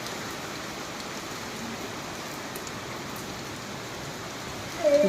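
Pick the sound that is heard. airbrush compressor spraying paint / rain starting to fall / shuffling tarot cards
rain starting to fall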